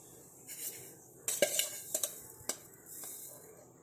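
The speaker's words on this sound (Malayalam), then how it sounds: "ഒരു പാത്രം അടുപ്പത്ത് വയ്ക്കുക." A metal pot is set on a stove, giving a few sharp clanks and clinks in quick succession against a quiet kitchen background.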